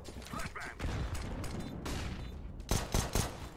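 Bursts of AK rifle fire in an online shooter game, a few sharp loud volleys near the end over steady game noise and mechanical clatter.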